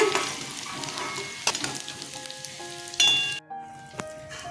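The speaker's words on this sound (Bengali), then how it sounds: "আলু ভাজা হয়ে গেছে" Potatoes frying in oil, a close sizzle with stirring clinks that cuts off abruptly near the end, leaving a faint hiss and a single metallic tap.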